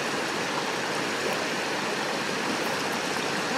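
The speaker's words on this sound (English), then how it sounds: "Nice water sounds in the background too." Stream water flowing near an outdoor lunch spot in Salt Lake City, a steady close rushing and babbling wash with no breaks and no talk.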